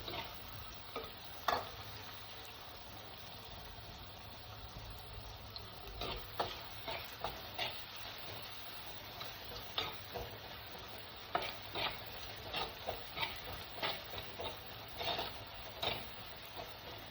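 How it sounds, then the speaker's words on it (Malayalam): Green chili, garlic, onion and ginger sauté in hot oil for a Kerala fish curry, a faint steady sizzle with irregular scraping stirs that grow more frequent, with no voices. "പച്ചമുളക് ഇത്രയിട്ട് നല്ലപോലെ വഴച്ചെടുക്കാം"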